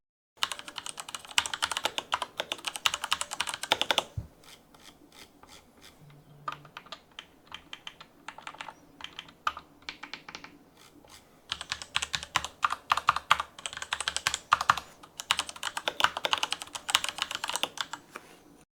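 Typing on a Razer BlackWidow Elite mechanical gaming keyboard with yellow linear switches, rapid soft keystroke bursts close up, with a pause in the middle before typing resumes steadily.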